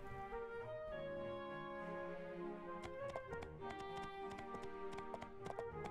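Horse hooves clip-clop in a steady run of sharp taps in the game My Time at Portia, heard over continuous melodic background music.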